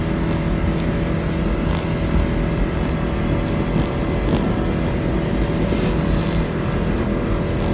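A vehicle engine held at full throttle while driving in reverse, a steady loud drone with an even, unbroken roar and no voices over it.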